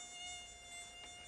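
A mosquito buzzes in a thin, high, steady whine that hovers faintly close by on a summer day, alone without speech.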